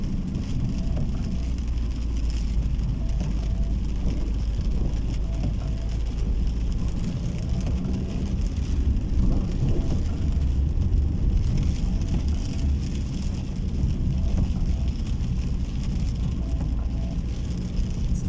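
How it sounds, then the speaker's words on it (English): Rain patters steadily on a car while driving, a dense continuous hiss over a low road rumble, moderately loud with no talk. "It's raining."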